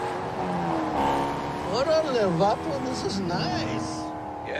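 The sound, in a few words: Dodge Hellcat muscle car engine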